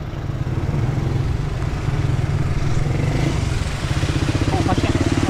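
A motorcycle runs through rising flood water on a rainy street during a typhoon in Bucana, its engine putting out a loud, steady rumble, with a person speaking over it.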